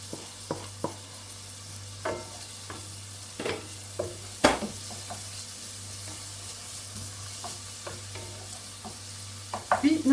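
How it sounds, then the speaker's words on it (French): Green Zebra tomato pieces brown in a pan for a spiced tomato chutney, a soft steady sizzle with a low hum beneath and scattered sharp taps and scrapes of a utensil stirring, nearby and moderate in level. "on laisse ça rissoler tranquillement"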